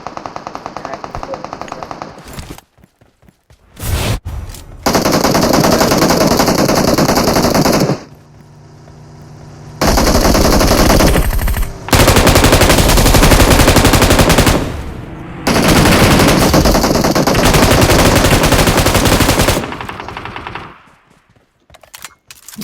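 An M249 light machine gun fires in the BGMI battle royale game, with long, loud, sustained automatic bursts separated by brief pauses and a final tapering burst.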